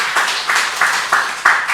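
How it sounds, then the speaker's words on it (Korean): A church congregation claps for the choir at a Sunday worship service, a broad wash of applause rising in several quick swells, close and steady, with no voices over it. "우리 성가대 오래간만에 찬양했는데 우리 한번 박수 한번 합시다"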